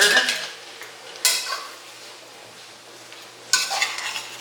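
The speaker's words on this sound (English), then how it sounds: "So you're gonna put these veggies in here. I'm gonna give them a stir" A spoon stirs chopped vegetables in olive oil in a cooking pot, giving three short scraping bursts spaced across an otherwise quiet moment, close and moderately soft.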